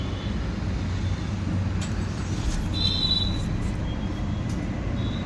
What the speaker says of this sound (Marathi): ही गाडी पेट्रोलवरती स्टार्ट झालेली आहे.